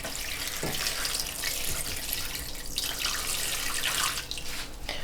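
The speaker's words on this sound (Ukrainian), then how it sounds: "і заливаю воду" Water streams steadily from a tap into a cooking pot lined with a towel, a continuous splashing rush that lasts throughout, close and fairly loud, filling it for sterilizing jars of pickled green beans.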